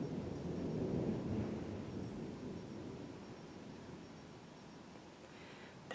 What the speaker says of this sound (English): That was thunder, and hopefully you heard that.